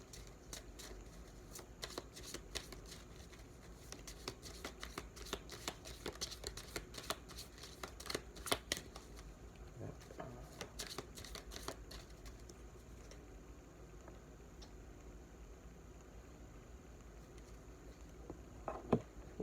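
Lenormand cards being shuffled for a reading, a long run of quick, soft papery riffles and flicks that continues steadily, close and quiet, easing off toward the end with no talking.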